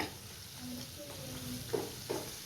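Cauliflower 65 pieces with Kashmiri chilli powder frying in hot oil in a pan and being flipped over, a steady soft sizzle with a couple of light scraping stirs near the end, no talking.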